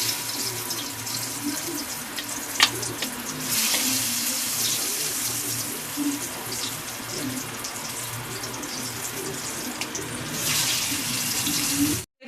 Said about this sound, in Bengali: বন্ধুরা দেখুন কড়াতে তেলটা গরম হয়ে গেছে, এবার এর মধ্যে আমি একটা একটা করে দিয়ে ভাজবো।